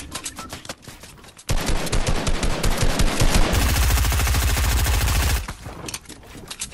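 Rapid automatic gunfire from Fortnite, with sustained loud bursts of fast, closely spaced shots that shift into a heavier, deeper stream of rounds before a few scattered shots trail off.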